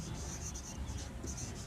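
During a physics class, chalk or a marker scratches across a board in a soft, steady, close rubbing sound that continues through the short moment.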